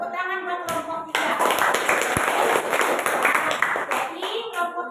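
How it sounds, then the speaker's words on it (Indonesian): A group applauds, with steady, dense clapping filling the whole stretch, a voice heard faintly at the beginning and end. "Tepuk tangan buat kelompok 3."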